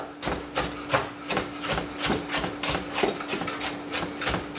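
A knife chops an onion into finer pieces on a cutting board, a rapid steady run of sharp thuds about three per second. The chops are close and distinct above a faint background hum, with no talking.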